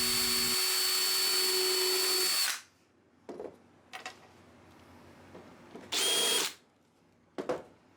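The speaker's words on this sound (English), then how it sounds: "if anybody is wondering why I have 3 drills, here's why." A power drill drives screws into a French cleat wall: one long steady whirring run, then several short bursts and a second longer run, close and loud in a quiet workshop.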